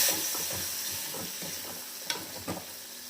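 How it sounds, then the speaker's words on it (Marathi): A spoon stirs paneer masala gravy thinned with a little water in a hot pan, a steady sizzling hiss with soft repeated scraping strokes and a couple of sharper clinks near the end. "छानपैकी ही ग्रेव्ही आहे ना एकत्र करून घेऊ."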